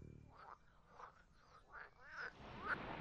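Repeated croaks from frogs, about five bursts spaced roughly half a second apart, moderately loud over a soft background hiss, with no one talking.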